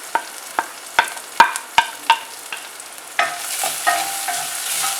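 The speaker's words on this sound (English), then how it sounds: "I'm going to add chopped up onions." Chopped onions go into hot oil in a pan for dal fry. A series of sharp spoon-against-pan clacks comes first, then a sudden louder sizzle that keeps crackling close up.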